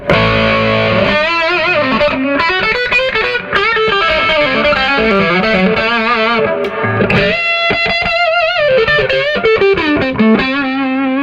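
An EVH Wolfgang electric guitar played loud through a Marshall JCM800 with high preamp gain, giving thick, distorted sustained chords and riffs that ring continuously throughout.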